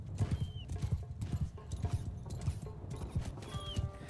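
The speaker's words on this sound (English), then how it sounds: "We want to thin out their horse cav." Horse cavalry gallops in a samurai-era battle game, a steady drumming of hooves with rhythmic clip-clop beats, joined by brief whinnies near the start and end.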